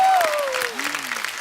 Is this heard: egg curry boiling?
no